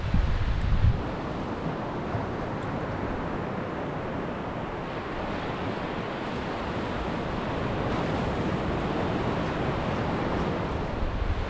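Strong wind and surf on the seashore during a sea fishing trip, a loud continuous roar of breaking waves and wind buffeting the microphone, steady throughout.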